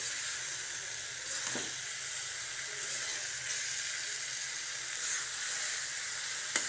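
Green leafy vegetables fry in a pan with a steady, close hiss of sizzling oil and a few faint stirring scrapes, with no one talking.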